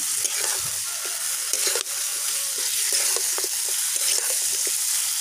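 Chicken and spice masala stir-fried in oil while sizzling continuously, with repeated scraping and clinking strokes of a spatula against the pan, close and steady, with no talking.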